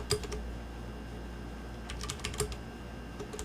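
Keystrokes on a computer keyboard as an address is typed, in short clustered bursts of quiet clicks with pauses between, close and alone over faint room noise.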